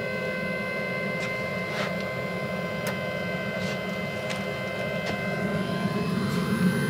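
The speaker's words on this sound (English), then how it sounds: "I'm going to go ahead and turn the blower off" Blower fan running on a Pellethead Poboy pellet grill smoker: a steady, fairly loud mechanical hum with a fixed whine, joined by a few faint ticks and clicks.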